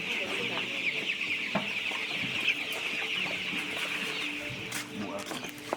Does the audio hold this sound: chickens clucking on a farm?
yes